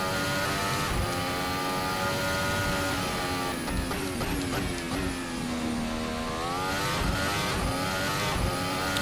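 A Formula Hybrid 2018 race car engine in a racing video game revs hard and accelerates, its high harmonic whine climbing steadily through gear changes, loud and continuous at close range with no talk over it.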